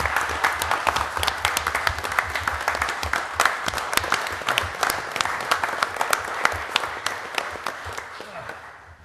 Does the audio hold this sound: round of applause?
yes